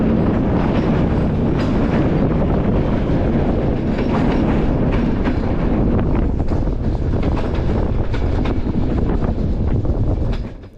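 A sleeper train with Bulgarian BDZ coaches, bound from Turkey to Sofia, rolls along the tracks with a loud, continuous rumble and rhythmic clickety-clack, buffeted by wind noise, before the sound drops off abruptly at the end.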